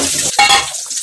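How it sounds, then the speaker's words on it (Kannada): Mustard seeds and onion fry in a pan, a brief sharp sizzle and crackle that flares after a short pause and then fades out quickly. "ಸ್ವಲ್ಪ ಸಾಸಿವೆ, ಈರುಳ್ಳಿ ಸ್ವಲ್ಪ ಫ್ರೈ ಆದರೆ ಸಾಕು."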